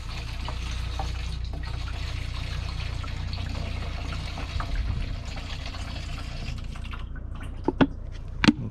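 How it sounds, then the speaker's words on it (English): Diesel fuel is poured steadily from a 2.0 HDI fuel system into a large jerry can, giving a continuous close liquid gurgle and trickle with a few sharp clanks near the end. "I literally pour it back into my big jerry can so that I could fill it back into my fuel tank."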